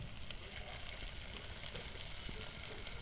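Onion, green chilli and shrimp frying in a pan, a steady close sizzle with a broad hiss that holds evenly throughout, no voices.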